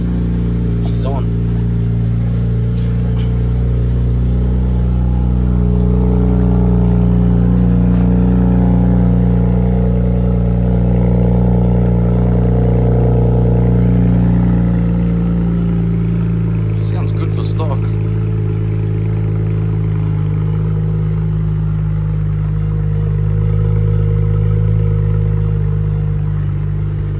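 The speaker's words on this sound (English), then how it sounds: "First start in a few weeks, so we'll let it idle for a bit." A BMW 335i idles steadily after its first start in weeks, a loud, deep and even engine rumble with a slight rise midway, while people talk over it.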